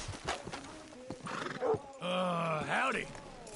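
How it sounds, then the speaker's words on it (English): A horse in Red Dead Redemption 2 lets out a long, rising whinny with a few scattered hoof clops and snorts before it, close and clear against a quiet background. "Hitch your horse up here."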